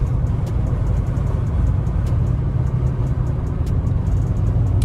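A 2020 Dodge Charger Hellcat Widebody drives along with a steady, deep engine rumble and road noise, continuous and close with no talk.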